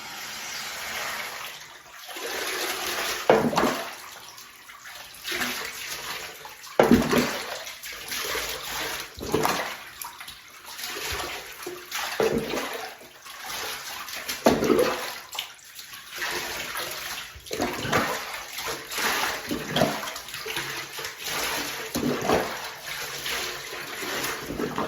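Cool tap water runs and splashes while a large dog is bathed in a tub, with surging pours that swell and fade in repeated waves, close and fairly loud, and no talking.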